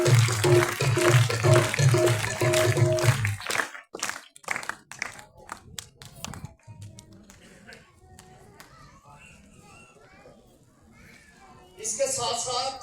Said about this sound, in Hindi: इनके लिए हम एक दफा भरपूर तालियां बजाते